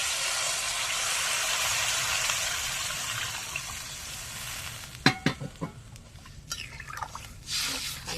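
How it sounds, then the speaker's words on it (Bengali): Taro, eggplant and potato cook down with spices in a pan, sizzling loudly and evenly at first, then giving way to a few sharp stirring clatters and bubbling liquid sounds. "দেখো মশলার সাথে ভালো করে কষিয়ে নিয়েছি, ভাজা ভাজা হয়ে গেছে।"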